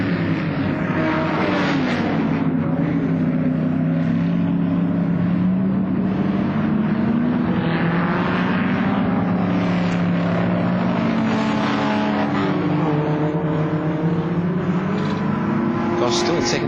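Early-1970s Ford Escort touring race cars at Warwick Farm in 1973, engines droning loudly and continuously with pitch rising and falling as they pass down the straight, under a commentator's voice.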